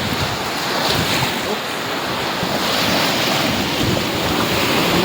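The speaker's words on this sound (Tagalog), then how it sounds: "Ayan yung alon, so hinihintay natin dumating yung alon para mahugasan yung bato." Ocean waves wash steadily over stones on a beach, making a close, continuous rush of surf and churning water. Wind buffets the microphone throughout, and no one speaks.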